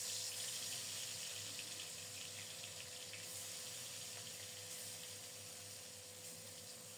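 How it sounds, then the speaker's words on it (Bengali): Prawns frying in hot oil in a home kitchen for a potato dal, a steady, even hiss and sizzle that holds throughout and fades slightly toward the end, with no talking. "এবার গরম তেলে মাছগুলো ছেড়ে দিলাম"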